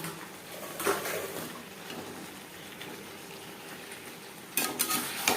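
Diced eggplant tipped into a pan of cooking pumpkin greens and stirred, a soft steady frying hiss with a couple of brief scraping clatters of utensil against the pan, near and with no voices.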